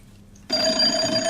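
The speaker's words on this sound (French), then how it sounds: "et le téléphone sonne." A telephone rings in a 1926 residence, a sudden bright bell ring cutting in after near silence and sustaining loudly to the end, with no one speaking.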